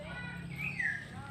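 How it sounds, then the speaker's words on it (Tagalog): A bird calls outdoors in leafy, rain-fed greenery, one short clear whistle-like note rising and falling at moderate distance over a soft ambient background. "Ang huni ng ibon"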